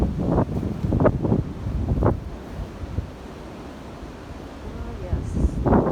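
Wind gusting through a park, a rough blustery rush with brief louder bursts, heard alongside someone talking and rustling movement nearby.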